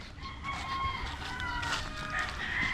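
Chickens and chicks on a farm cluck and peep in a steady busy chorus, with a rooster crowing partway through, the birds close by and continuous.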